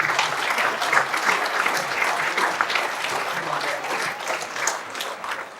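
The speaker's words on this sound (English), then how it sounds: "Please, big applause for Dylan Byrne" Audience applause for a winner at a county sports awards night in a hotel function room, steady dense clapping from many hands, close and sustained throughout.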